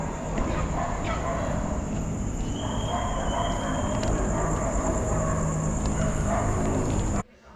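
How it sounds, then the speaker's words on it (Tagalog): Several dogs bark repeatedly in an abandoned convention center, fairly distant and mixed into constant loud background noise, with a steady high whine and some talking throughout. "Grabe yung aso, ingay nila."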